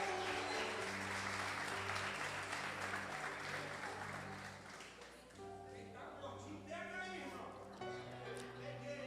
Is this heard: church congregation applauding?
yes